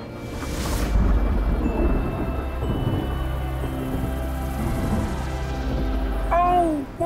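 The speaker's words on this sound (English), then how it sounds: "Oh, what a storm!" Heavy thunderstorm rumble rolls continuously with rain and wind noise beneath it, a low booming roar throughout, with a brief squealing mechanical screech near the end.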